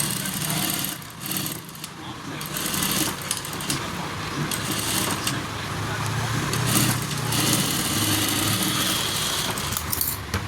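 A sewing machine runs steadily while hemming the edge of a designer blouse cloth, a continuous close whirring hum that carries through the whole stretch with slight dips in pace.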